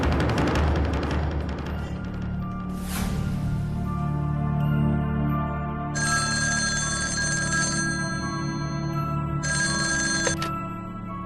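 A cartoon telephone rings in two bursts of bright electronic trilling, near and clear, following a swelling musical score that carries on underneath.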